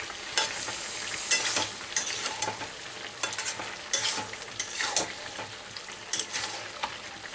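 Jackfruit and potato curry stir-fried over a medium gas flame, a steady close sizzle with frequent spatula scrapes and stirring clatter against the pan, with no voices.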